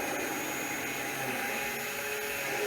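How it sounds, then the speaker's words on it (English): An immersion blender whirs loudly and steadily while pureeing peeled canned tomatoes, a continuous high motor drone running alone without talk. "Okay, just quickly with the immersion blender."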